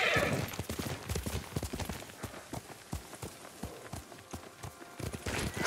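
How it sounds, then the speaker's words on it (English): Hoofbeats of a horse galloping in Ghost of Tsushima, a steady run of clip-clop strikes with a neigh or whinny near the end, heard alone without talk. "You're a good horse, Noble."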